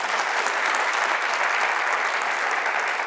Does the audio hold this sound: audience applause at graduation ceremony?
yes